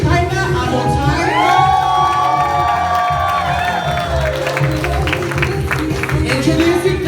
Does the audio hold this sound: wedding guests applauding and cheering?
yes